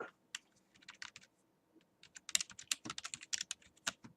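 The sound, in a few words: typing text on a computer keyboard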